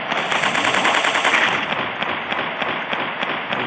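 Rapid bursts of gunfire in a 3D dinosaur hunting shooting game on Android, loud close shots in quick rattling succession, denser at first and then continuing in a steady rhythm.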